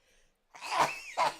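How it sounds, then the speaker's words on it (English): A sick person gives a single close, forceful sneeze, with a quick intake and a sharp explosive burst followed by a shorter second burst. "before I sneezed up half the fucking soul that is inside me"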